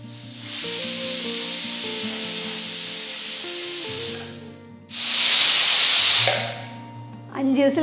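A pressure cooker of dal on medium flame lets off long loud steam whistles and hissing bursts, two sustained blasts with a pause between, up close, with a steady tone running underneath.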